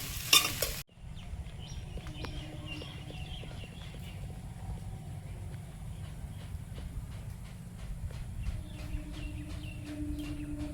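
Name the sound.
stirring soybean and vegetables frying in a pan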